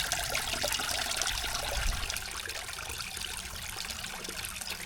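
Water trickling steadily in a backyard bird spa water feature, a soft continuous splash and gurgle, fairly close and unbroken, with no voices.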